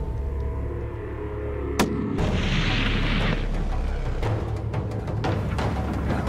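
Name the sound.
rifle shot while hunting rams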